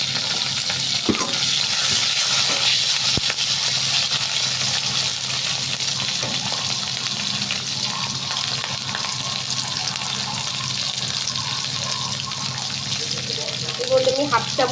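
Chopped capsicum fries in hot oil for a mango chilli paneer, giving a steady, close sizzle throughout with occasional scraping and stirring, and a brief burst of crackle near the end.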